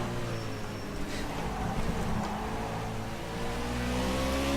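rFactor 2 race cars, prototypes and Nascar, run at Le Mans with a steady engine drone and gliding pitch lines as cars pass, plus a brief sharper whine near the start.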